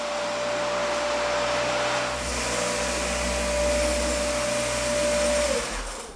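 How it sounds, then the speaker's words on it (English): A random orbit floor sander with 6-inch sanding discs works across a hardwood floor, producing a loud, steady motor whine and rushing drone that shifts slightly in pitch midway and fades at the end. "random orbit heads with a 6-inch diameter sanding disc"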